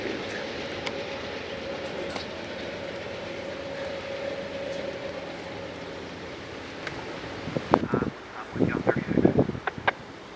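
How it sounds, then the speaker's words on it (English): Passenger train 1665 arriving northbound at Fullerton station: a steady low rumble builds and grows louder, then sharper clattering and hissing bursts come in toward the end as the train draws close. "1665 arriving about on time"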